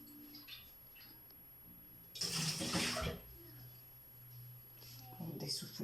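Running water rinsing groceries and a cooking pot in a home kitchen, a brief splashing burst in the middle and another near the end, with quiet background sounds between.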